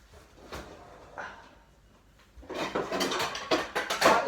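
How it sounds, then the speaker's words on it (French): A saucepan picked up in a kitchen: after a quiet start with a few light knocks, a burst of metallic clanks, scrapes and rattles of cookware follows, close and fairly loud. "on prend la casserole."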